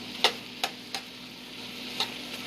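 Scallops fry in a pan with a steady, soft sizzle and hiss, broken by a few sharp ticks and pops spaced unevenly, heard close with no talking.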